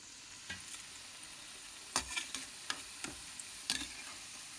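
Onion pakodi frying in hot oil, a low, steady sizzle with a few sharp ticks and clinks from stirring, close and fairly quiet, with no talking.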